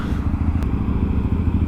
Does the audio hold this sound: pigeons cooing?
no